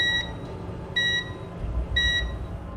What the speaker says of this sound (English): The smoke alarms screamed.